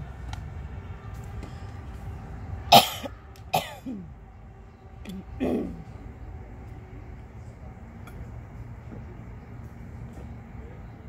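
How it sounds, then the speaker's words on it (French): A woman coughs and clears her throat a few times in a quiet room, with two or three short, sharp bursts spread over several seconds against a low steady background hum. "je tousse"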